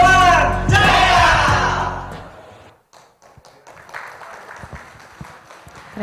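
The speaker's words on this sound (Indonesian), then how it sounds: "beri tepuk tangan sekali lagi yang meriah untuk UD Mertana di Bali" Audience at a local supply expo stage in Badung, Bali: a loud burst of cheering and voices that fades into scattered clapping and taps.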